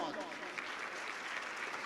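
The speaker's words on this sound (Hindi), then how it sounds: "let us give that young champion a huge round of applause" Crowd applause at an indoor felicitation program honoring a young exam champion, a dense steady wash of clapping throughout with a faint murmur of voices underneath.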